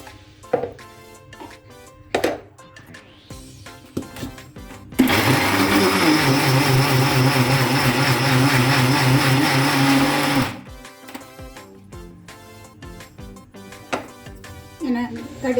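A kitchen mixer grinder whirs loudly for several seconds while grinding coconut with rice, between stretches of quieter kitchen handling and clinks.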